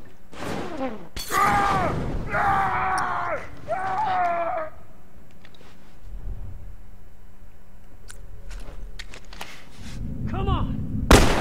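Gunshots in the video game The Last of Us Remastered: a loud, sharp blast near the start and another near the end, with a voice talking between them and over parts of the firing.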